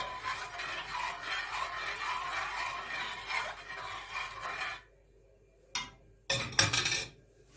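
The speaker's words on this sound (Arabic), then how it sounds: "هنبدا بقى طبعا كده نقلب" Warm milk being stirred in a pot for homemade mish cheese, a continuous close scraping and swishing of a spoon for about five seconds, then quiet with a few short knocks and clinks.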